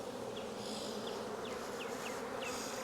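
Honey bees buzz in a steady, close drone during a five-frame nuc hive inspection, with brief higher whines as individual bees fly past the microphone.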